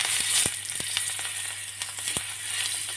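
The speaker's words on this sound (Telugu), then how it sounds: "ఇవి ఫ్రై చేస్తాను." Boiled eggs frying in oil seasoned with salt and turmeric give a steady, close sizzle, broken by a few sharp pops and spatters, with no voices.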